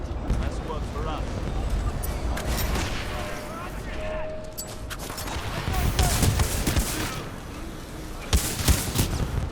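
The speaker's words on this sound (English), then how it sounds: "This gun's kind of cool." Repeated gunfire from a player's gun in the video game Titanfall 2 rings out in sharp bursts amid game effects, with a louder volley late on.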